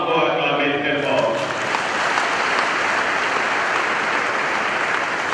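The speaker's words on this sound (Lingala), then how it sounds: "Est-ce que nous pouvons encore acclamer très fort?" A large congregation applauds and cheers loudly at a religious gathering, a dense continuous wash of clapping and shouting that holds steady throughout, with a few tonal voices rising early on.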